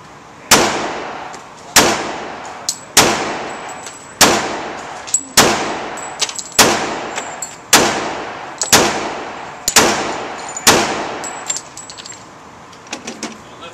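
Ten loud, sharp shots from a Smith & Wesson M&P .45 ACP handgun fitted with a flashlight, fired from the hip at a target 8 yards away, evenly spaced about a second apart, each with a short ringing decay.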